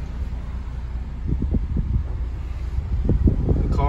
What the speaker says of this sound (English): It is blowing cold air.